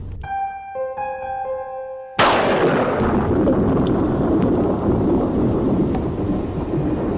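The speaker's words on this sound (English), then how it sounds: "Storm seems to be getting stronger." A thunderstorm: after a few seconds of sustained musical tones, a sharp loud thunder crack bursts in and gives way to a heavy rolling rumble and steady downpour that stays loud through the rest.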